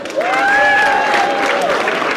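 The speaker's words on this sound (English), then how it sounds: "Clap for her." Applause from a crowd, steady and moderately loud, with a sustained tonal whine running through it.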